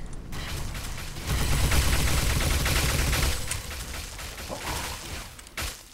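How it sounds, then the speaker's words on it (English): Rapid automatic gunfire in Fallout, a loud dense burst of shots running for a couple of seconds, followed by quieter mechanical clicks and scattered reports. "Contact. Opening fire."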